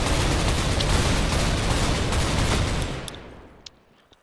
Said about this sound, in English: I love me the shotgun.